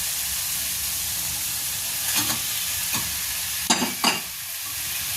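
Vetki fish fillets sizzle steadily in a hot pan with soy sauce, a continuous frying hiss broken by a few louder stirring scrapes near the end, with no voices.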